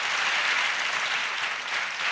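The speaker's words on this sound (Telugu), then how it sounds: "చప్పట్లు కొడుతూ దేవునికి స్తోత్రాలు చెప్దాం." A church congregation claps in praise during a pastor's sermon, producing loud, sustained, dense applause that fills the whole stretch without any voices over it.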